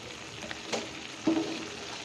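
Grated carrot simmers in milk with sugar for carrot halwa, giving a soft, steady sizzle and bubbling from the pan with a couple of faint stirring scrapes. It is fairly quiet and there is no voice.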